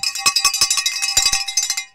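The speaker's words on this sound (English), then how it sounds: "the virgin ringing of the orange cowbell" An orange cowbell rings in a rapid, uneven series of bright metallic clangs, loud and close, with no voices over it.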